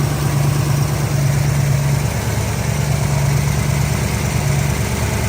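A 1971 Ford Mustang coupe with a 302 V8, automatic, headers and aftermarket carburetor, idling loud and close with a steady low rumbling throb throughout.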